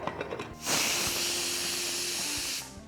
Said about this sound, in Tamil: 2வது விசில் வந்துடுச்சு